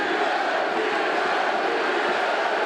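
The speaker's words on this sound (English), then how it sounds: "The chants of Diaz emerged through the crowd." Dense crowd roar fills an MMA fight arena, fans chanting Diaz in a steady, continuous wash of voices with no clear pauses.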